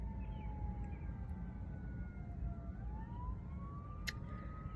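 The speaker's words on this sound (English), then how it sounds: "there's a siren going off in the distance right now" A siren wails faintly far off, its rising and falling tone drifting over a steady low rumble of background noise with no talk.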